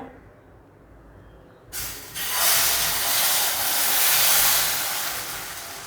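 Aayate batter of spring onion hits a hot nonstick pan and bursts into a loud, broad hissing sizzle after a quiet start, then holds steady and fades slightly toward the end.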